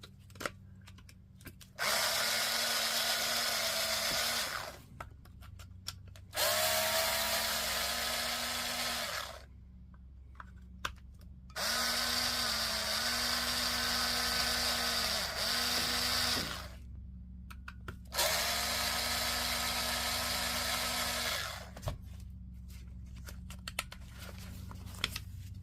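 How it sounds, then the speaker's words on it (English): Cordless screwdriver driving screws during a power tool battery pack repair, with four long bursts of whirring motor separated by short pauses, close and loud. "essential tool number 3, which is the cordless screwdriver to drive this"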